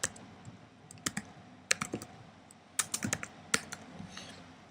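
Fingers type on a computer keyboard in short irregular bursts of crisp, close key clicks separated by brief pauses, with no talking.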